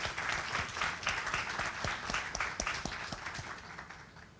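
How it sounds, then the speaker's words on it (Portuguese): Audience applause at a tribute event in Brazil, a steady dense wash of many hands clapping that holds at an even level for several seconds. "Palmas para vocês."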